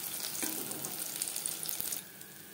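Stuffed pointed gourd (potol) fries in hot oil in a pan, giving a soft, steady sizzling hiss that stays low and fades slightly toward the end.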